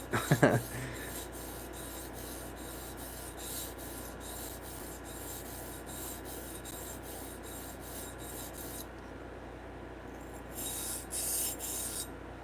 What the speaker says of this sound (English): I feel like I'm sharpening it.